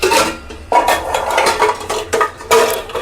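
Washed steel dishes and pots clatter and clink as they are handled and set down in a home kitchen, several sharp close metallic bursts with short pauses between them.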